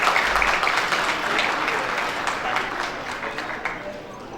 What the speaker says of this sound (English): Yes, audience, I need to hear a clap, please.